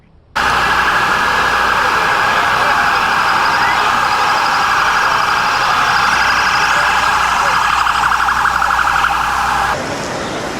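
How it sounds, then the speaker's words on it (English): Emergency sirens wail continuously near Washington National Airport after a sudden start, loud and sustained, with overlapping tones from several directions at once. "Lots of sirens from all different directions"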